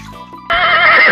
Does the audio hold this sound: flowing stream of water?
no